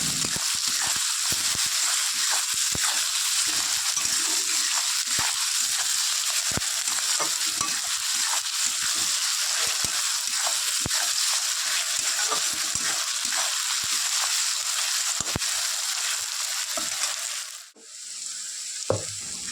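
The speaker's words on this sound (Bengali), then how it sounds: "গোল্ডেন ব্রাউন করে পেঁয়াজটা ভেজে নিয়েছি।" Onion, salted, fries in a wok while being stirred until golden brown, a steady loud sizzle with scraping stir strokes throughout, briefly dropping near the end before resuming.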